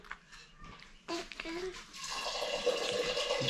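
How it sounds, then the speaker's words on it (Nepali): Water runs steadily into a container in the second half, a rising rushing hiss, with a voice and other chatter before and over it. "पानी भरेको आवाज"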